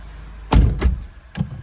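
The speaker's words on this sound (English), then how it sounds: "if I close the doors" Car doors shut three times in quick succession on a vehicle showing a DC/DC converter and i-eloop fault, each a dull, close thud with a brief rattle, no talk.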